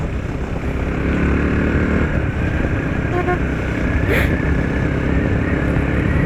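Motorcycles belonging to a group of fellow riders produce a loud, steady engine drone that stays constant from start to finish.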